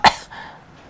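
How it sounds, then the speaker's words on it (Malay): One sharp, loud cough bursts out at the start, then fades into a brief breathy tail and quiet room tone. "Terbatuk, aku minta maaf."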